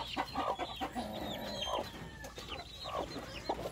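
Native chickens clucking close by, with several short overlapping clucks and calls from hens and chicks in quick succession, no talking.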